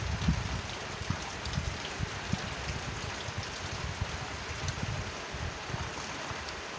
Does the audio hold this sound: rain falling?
yes